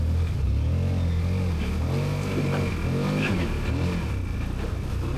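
A GOES Terrox 1000 ATV engine revs hard as it climbs a rutted hill, its loud, continuous motor rising and falling in waves of throttle, close by, with no talking.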